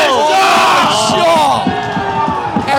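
Spectators at an amateur cricket final roar and cheer loudly after a six is hit, a dense burst of yelling voices that eases slightly toward the end.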